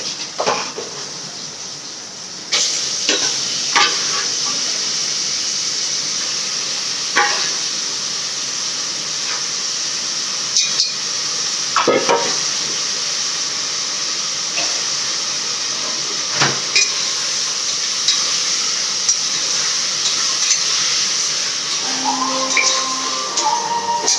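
Onions and tomatoes for mutton kulambu frying in a pan give a loud, even hiss that runs throughout, with a few faint scrapes and knocks scattered through it and no voices.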